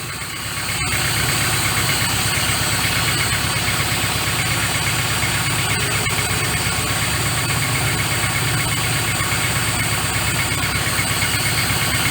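Carburetted engine idling steadily after an idle jet adjustment, a loud continuous close-up rumble with even low-pitched pulsing and a faint vibration, no voices.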